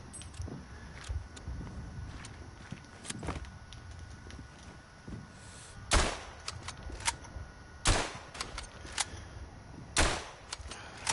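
Light machine gun fire in the WW1 trench shooter Verdun: several loud, sharp cracks spaced a couple of seconds apart stand out over a busy bed of lighter, distant gunfire and battlefield clatter, with no talking.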